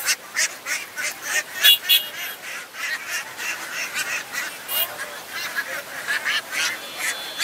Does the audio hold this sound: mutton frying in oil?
no